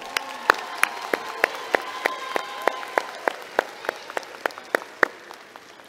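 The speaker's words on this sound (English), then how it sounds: "And let's give them a round of applause." At a high school graduation, applause for scholarship recipients comes as a thin, fairly sparse run of individual claps spaced roughly evenly, with a light crowd murmur beneath.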